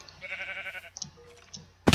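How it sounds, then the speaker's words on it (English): A sheep in the Minecraft video game bleats in a short wavering call near the start, followed by a few faint game blips and a sharp burst at the very end. "Hi sheep. What you doing?"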